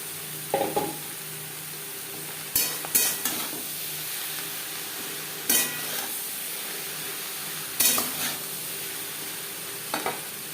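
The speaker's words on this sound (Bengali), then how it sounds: "ভেজে নেওয়ার পর দিয়ে দেবো টুকরো করে কেটে রাখা চিচিঙ্গা পেঁয়াজের সাথে চিচিঙ্গা বেশ ভালো করে মিক্স করে দেবো" Chopped snake gourd being stir-fried with browned onions in a pan, a steady low sizzle broken by several short scraping stirs of the spatula, close by, with no talking.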